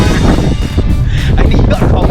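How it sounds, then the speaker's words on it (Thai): Strong wind buffets the microphone on a hilltop at a new skywalk viewpoint in Songkhla, Thailand, a loud continuous rumble with gusts under someone talking. "มันลมแรงมากครับ"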